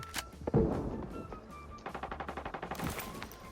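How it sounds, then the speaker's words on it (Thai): Gunfire in the video game Arena Breakout: a couple of sharp single shots followed by a rapid automatic burst of about a dozen evenly spaced rounds, fairly loud and close. "ตรงนี้มีเสียงปืนอยู่อีกข้างหน้ามีเสียงปืน"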